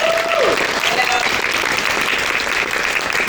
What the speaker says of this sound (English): So round of applause for your years of dedication.